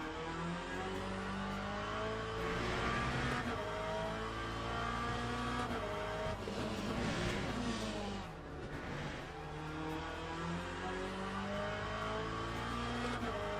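A Mercedes race car in Le Mans Ultimate holds a continuous, loud engine drone for the whole stretch, its pitch rising and falling through gear changes, with a brief dip in the middle.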